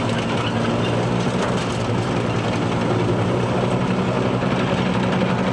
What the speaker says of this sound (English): Up to second gear, up to third gear maybe.